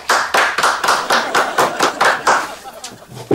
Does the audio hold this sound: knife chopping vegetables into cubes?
no